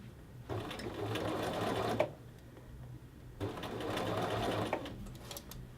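Two bursts of a sewing machine, each about one and a half seconds long and separated by a short pause, stitching across a men's shirt collar band, fairly quiet and close.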